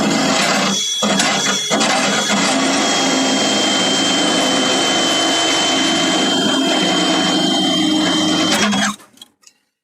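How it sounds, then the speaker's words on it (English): A drill fitted with a carbide burr grinds out spot welds on the trunk of a 1957 Chevy 210, a loud continuous high-pitched metallic whir that holds steady for about nine seconds before cutting off abruptly. "I have a Carbide burr here, as you can see, and I have that in my drill, and I use that to try to get the spot welds out."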